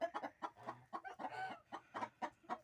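Hens cluck close by in quick, rhythmic bursts, a steady run of short clucks with no talking.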